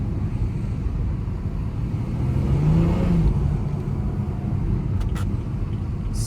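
400 HP BMW 340i xDrive driving on snowy roads, a steady low engine drone and road roar heard from inside the cabin, swelling slightly mid-way as it accelerates, with faint clicks near the end.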